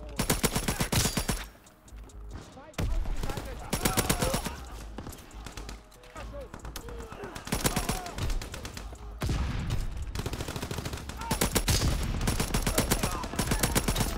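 Full-auto M2 Carbine gunfire in Call of Duty WW2 on the Shipment map, loud close bursts of rapid shots broken by short gaps, with other weapons and a voice mixed in.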